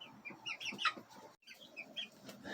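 Several backyard hens cluck and chirp close by in a quick, uneven series of short calls, with a brief pause midway.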